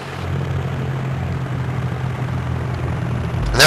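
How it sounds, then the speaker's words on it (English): Aircraft flying overhead in the video game Joint Operations, a steady droning engine rumble that swells louder toward the end, heard without voices. "Plane above Charlie"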